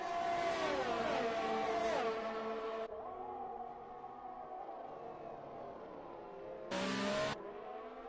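Formula 1 cars race at the Bahrain Grand Prix in a PS4 racing game, their engines wailing with rising and falling pitch through gear changes. A second car screams past briefly near the end.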